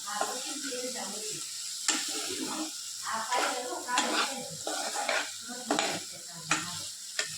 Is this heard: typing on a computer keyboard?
no